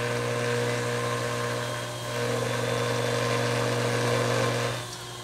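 A pottery wheel with worn bearings runs noisily while porcelain is thrown, giving a steady mechanical hum and whine with a slight dip partway through before easing off near the end.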